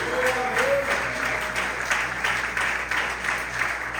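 Congregation clapping during a family worship service, a continuous busy patter of many hands at fairly close range, with a brief sustained musical tone near the start.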